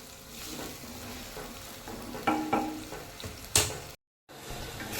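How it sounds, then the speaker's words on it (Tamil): Tomato and ground masala paste sautéed in oil for a fish curry, sizzling steadily up close as a spoon scrapes and stirs in several strokes, one louder clatter near the end, with no voices. "அது வரைக்கும் நல்லா வதக்கிக்கணும்."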